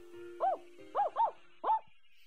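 Kotaro the dog from the visual novel A Sky Full of Stars lets out four short barks in a quick, uneven sequence, clear and mid-distance over a low steady background hum.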